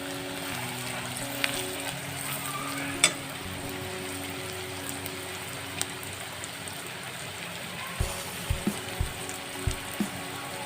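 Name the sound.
spiced meat being stirred and cooked in a pan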